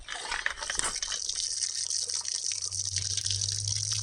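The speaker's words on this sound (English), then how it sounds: "Drain the water out." Water drains out of a rock tumbler barrel through a lid with holes drilled in it, a steady close gush and splash that continues for several seconds with a low hum entering near the end.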